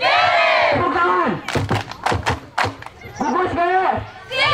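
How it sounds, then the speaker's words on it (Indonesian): A group of scouts at a school scouting event claps in a short burst of several sharp, rhythmic hand claps between loud chanted shouts, close and punchy, with group voices before and after. "Gugus K, sebelah kanan, sebelah kiri, tepuk tangan."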